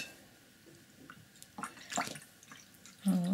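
Paintbrush being washed in a jar of water, soft swishing and dripping splashes, close and quiet, ending in a slightly louder slosh.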